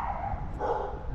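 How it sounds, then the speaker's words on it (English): A couple of dogs bark somewhere down a residential block with succulent and cactus yards, heard faintly and at a distance outdoors, a short muffled burst over street ambience. "Just hear them barking."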